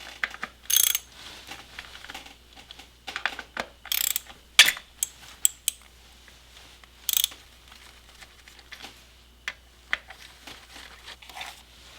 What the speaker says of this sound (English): Remove 1, 2, 3 bolts associated with the fuel line assembly